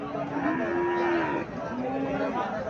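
A Friesian cow at a cattle market gives a long, drawn-out moo, then a second shorter one, clear over steady crowd murmur.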